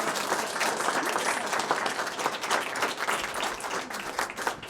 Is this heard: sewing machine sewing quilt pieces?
no